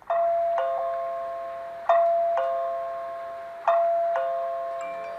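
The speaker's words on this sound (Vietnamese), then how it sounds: "Nè, bây giờ mình bấm chuông này ha." A CareCam camera doorbell button chimes in a repeating electronic ding-dong pattern, two tones per ring, cycling three times with ringing decay and no voices.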